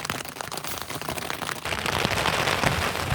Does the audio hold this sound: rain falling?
yes